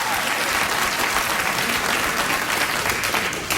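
A studio audience at a late-night talk show cheers and applauds, a steady, dense wash of clapping and crowd noise that fills the whole stretch without pause.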